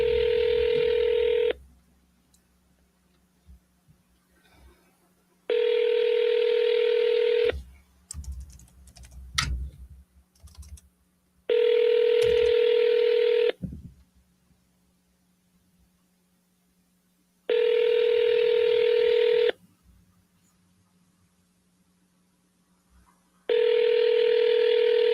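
Telephone ringback tone on an outgoing call: long loud buzzing tone bursts repeating about every six seconds with silent gaps between, plus scattered soft clicks and keypad taps in one gap.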